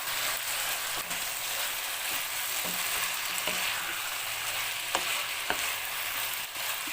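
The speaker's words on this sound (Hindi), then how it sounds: "इनको अच्छे से मिक्स करते हैं" Sliced carrots and bell pepper being stirred into sauce in a pan for homemade spaghetti, a constant frying hiss with occasional soft clicks of a spoon against the pan, no talking.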